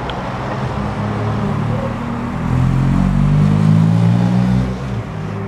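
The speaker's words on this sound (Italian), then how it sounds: "C'è anche un gommone." An inflatable dinghy's outboard motor drones steadily at sea near a sailing boat, a loud continuous engine hum that swells slightly midway, with no talk.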